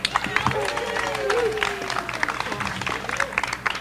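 A rally crowd at an outdoor climate justice march applauds an organizer, scattered claps and cheers rising and falling with a voice heard speaking over the noise.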